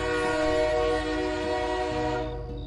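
A train arriving, heard as a sound effect in a Bengali romantic audio story: a loud, sustained horn with steady harmonic tones rides over rumbling rail noise for about two and a half seconds, then fades.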